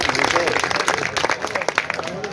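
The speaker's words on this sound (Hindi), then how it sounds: "आपको लुत्फ आ रहा है तो भरपूर तालियां दी इसके लिए।" Audience applause at a mushaira, an Urdu poetry gathering, a steady wash of clapping from a crowd lasting the whole moment, with voices mixed into it.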